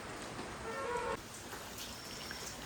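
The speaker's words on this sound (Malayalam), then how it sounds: "ഇന്ന് നല്ല മഴയുണ്ട്, പക്ഷെ കുറവാണ്" Steady rain patters down, a continuous soft hiss with a few drips, moderately loud and close, with no voices.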